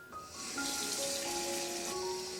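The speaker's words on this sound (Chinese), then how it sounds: "先把这个鸡呢给它清洗干净" A whole chicken rinsed under a running kitchen tap, a continuous soft gush of water splashing against the bird, steady and close at low volume.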